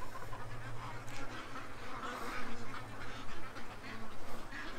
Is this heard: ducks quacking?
yes